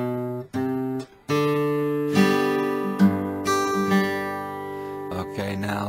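Folk acoustic guitar plays a short plucked lead-in into the first measure of a song, clear single notes and ringing strings with brief gaps between phrases, close and alone.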